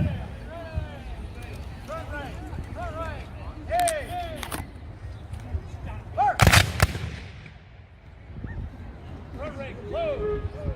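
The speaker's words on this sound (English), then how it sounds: "So if you can see now, okay, firing by rank." Civil War reenactors fire muskets by rank at Greenfield Village, a sharp ragged volley of several near-simultaneous shots cracking loudly around the middle, set among crowd chatter, children's voices and earlier scattered reports.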